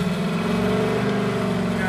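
A car engine drones steadily and loudly in an old, revived Datsun project car with a nearly dead battery, a continuous low mechanical hum filling the short stretch without clear rises.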